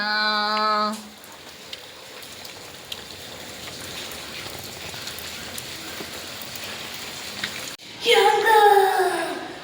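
Steady rain falls during sunshine in Kerala, pattering on a surface throughout, with brief bursts of voice or tonal sound at the start and end.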